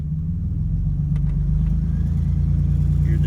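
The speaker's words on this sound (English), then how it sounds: "Let's hear the turbo spool." A 1980 Buick Regal turbo sport coupe with a draw-through turbo idles with a loud, steady low rumble, a faint rising whistle of turbo spool emerging near the end.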